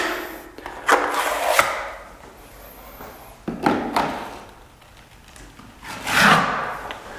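Three separate bursts of scraping, smearing strokes as a drywall knife spreads joint compound, close up, with quieter gaps between them and no talking.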